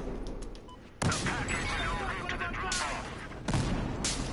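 Sniper gunfire in the Battlefield Hardline video game: two sharp, loud shots about two and a half seconds apart cut through a busy, dense game soundscape of distant battle noise.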